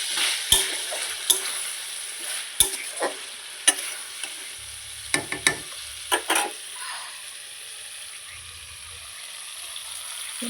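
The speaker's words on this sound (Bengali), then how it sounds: "এখন এটাকে ভালো করে নাড়াচাড়া করে আমি এটাকে কষিয়ে নেব" Prawns cooking with milk in a pan are stirred in scattered, sharp scrapes and taps spread over a low, quiet simmering hiss, close and sparse.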